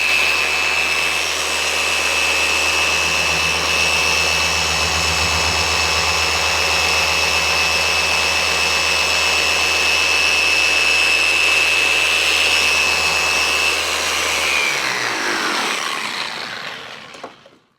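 A machine polisher with a rotating or oscillating pad working on a car's decals, a loud, steady high whine that holds evenly before spinning down and fading at the end.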